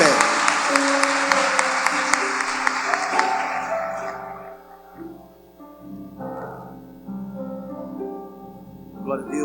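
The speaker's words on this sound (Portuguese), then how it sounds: "Dê uma salva de palmas para Jesus." A church congregation applauding, a dense roar of clapping that fades away over several seconds while a held musical tone and voices carry on underneath and after.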